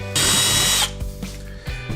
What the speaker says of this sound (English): We then drill 2 smaller holes